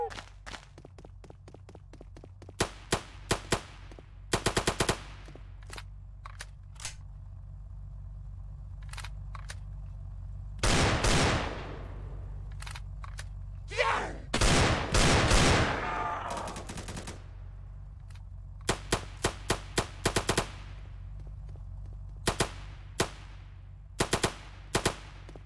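Gunfire in the Roblox game BlackHawk Rescue Mission comes as scattered single shots and short sharp bursts, broken by a few longer, louder sustained volleys and quiet stretches between them.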